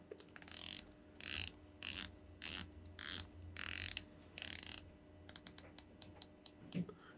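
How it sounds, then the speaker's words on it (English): Ceramic 120-click unidirectional bezel on a microbrand dive watch being rotated, a series of quick ratcheting click bursts in steady rhythm, then a run of sharper separate clicks, close and clear with no talking. "You are getting a ceramic bezel on here. It's 120 click. It's unidirectional."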